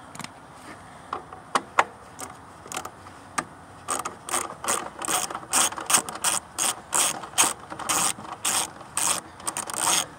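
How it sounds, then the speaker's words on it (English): A small ratchet turns a 10mm socket on cover bolts of a Saab engine, giving rapid, close clicking bursts that grow denser and louder toward the end, with no talking. "we're going to need a small ratchet and a 10mm socket to get these covers off"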